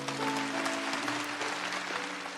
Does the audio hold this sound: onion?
no